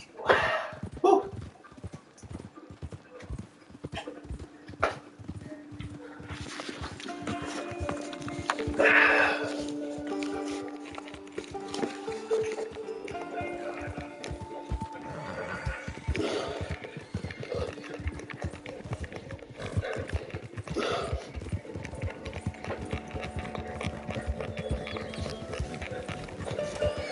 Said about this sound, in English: Good looking horse there.